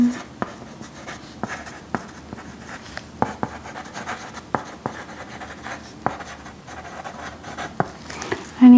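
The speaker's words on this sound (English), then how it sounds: "Okay, I'm just gonna write this down." A pen writes notes on paper during a calm medical exam, a close, soft scratching with regular small taps and strokes continuing steadily throughout, with no talking.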